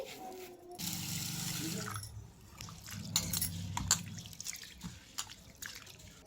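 Basmati rice is rinsed in water, with swishing and splashing at close range, short pauses, and a few drips and light knocks.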